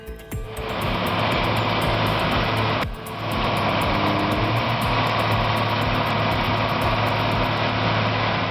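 A John Deere tractor engine runs in a loud, steady drone, briefly dipping around a third of the way through before settling back to the same even roar.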